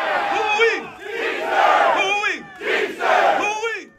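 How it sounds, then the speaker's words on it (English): A large crowd at a labor rally chants loudly in rhythmic, repeated phrases, voices swelling and dipping in waves across several seconds. "That is the sound of a rally"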